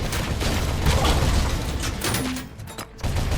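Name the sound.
rocket exploding in RoboCop: Rogue City video game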